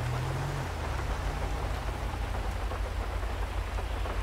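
Rain falling in the GTA V game world, a dense hiss of drops on surfaces with a low rumble at the start that soon settles into a constant steady downpour, and no voices.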